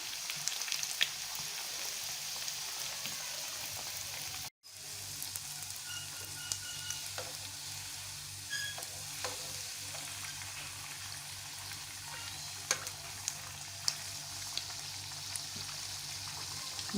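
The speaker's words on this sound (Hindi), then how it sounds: "चलें अब हम इसको आहिस्ता आहिस्ता इसको फ्राई करेंगे" Chicken rolls fry slowly in oil with a steady, even sizzle that hisses without a break, apart from one brief dropout early on. It stays moderately quiet and close throughout, with no voices.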